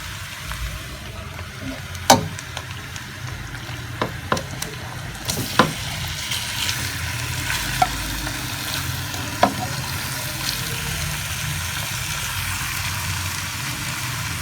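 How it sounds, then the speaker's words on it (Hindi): Goat liver frying with masala over a medium flame, a steady sizzle with several sharp clinks and scrapes of stirring scattered through it. "कलेजी डालकर अब हम इसको मीडियम फ्लेम पर 8 से 10 मिनट के लिए भूनेंगे"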